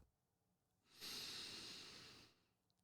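A single slow, breathy intake of air, close and quiet, rising and then fading over about a second and a half against near silence.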